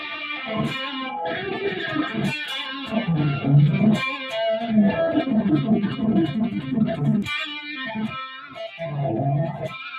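A high-gain electric guitar on the bridge pickup plays through a pedal, giving distorted, harmonically rich chords and riffs with brief pauses between phrases and no talking.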